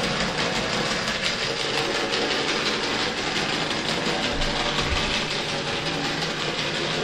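Vintage DC model train locomotive running with a steady, dense mechanical whir and buzz, its wheels spinning continuously with a rough, rattling hum and no talk.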